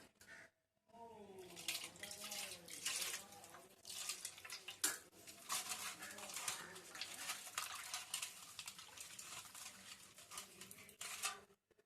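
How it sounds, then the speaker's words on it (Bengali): Water pours into a pan holding fish for steaming with spring onions, a continuous splashing rush for most of the clip after a brief pause, with faint talk underneath. "মাছটা সেদ্ধ হওয়ার জন্য পরিমাণ মতন জল দিয়ে দেব।"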